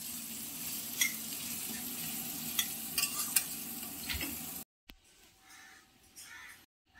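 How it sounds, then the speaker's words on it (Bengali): Carrots and onion fry in a pan, a dense crackling sizzle with scattered sharp pops, then the sound cuts to a quieter stretch with faint background noise. "গাজর আর পেঁয়াজটা সুন্দর করে ভাজা হয়ে গেছে"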